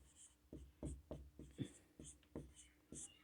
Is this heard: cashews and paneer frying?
no